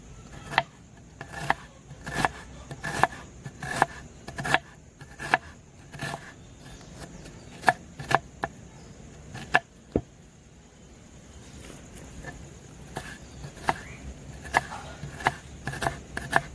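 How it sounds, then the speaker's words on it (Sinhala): A knife chops onions into small pieces, with steady, close, sharp taps on a board in a quick even rhythm, then sparser cuts near the end. "ලූණු චූටි කෑලි වලට කපා ගන්නවා."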